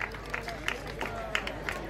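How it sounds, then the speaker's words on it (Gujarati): An audience at an award ceremony claps to welcome an honoree, brief bursts of applause popping irregularly over a low murmur of the hall. "આપણે સૌ તાળીઓના ગડગડાટથી વધાવીએ"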